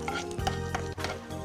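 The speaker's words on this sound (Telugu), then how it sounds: "1 స్పూన్ ఆవాలు, 1 స్పూన్ జీలకర్ర. అవి కొద్దిగా వేగుతున్నాయి కదా" Mustard seeds and cumin seeds frying in a pan, a light crackling sizzle with faint stirring scrapes, close and steady with no talk.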